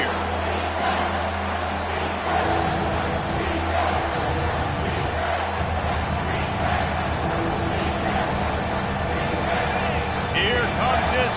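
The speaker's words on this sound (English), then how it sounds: "Here comes this home crowd" A home crowd roars steadily in a football video game stadium, a continuous wash of cheering and noise running under a play-by-play commentator's voice throughout.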